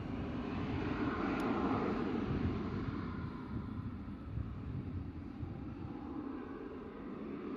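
A KLM Cityhopper Embraer E175 jet departs Bristol Airport for Amsterdam. Its engines give a broad, steady roar heard from a distance that swells slightly early on, then fades gradually.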